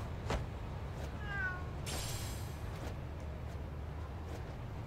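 Cats meowing in the video game Lost Judgment: a few short meows near the start and middle over a steady low ambient game hum, with a brighter burst around the middle.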